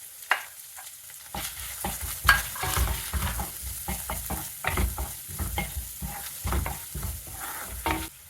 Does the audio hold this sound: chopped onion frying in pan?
yes